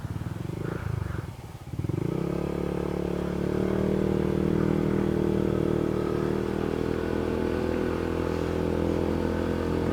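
A group of about six motorcycles rides together on a road in Sual, Pangasinan, their engines droning loud and close in a steady, continuous roar after a brief dip near the start.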